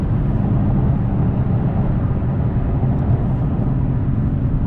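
Dodge Charger or Challenger 392 V8 revving hard, a steady loud low engine roar holding close and continuous without any talk.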